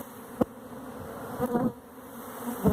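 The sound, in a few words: swarm of honey bees buzzing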